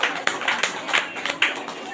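A church congregation claps loudly in thanks to God at a ministry testimony gathering, a brief burst of fast, uneven hand claps.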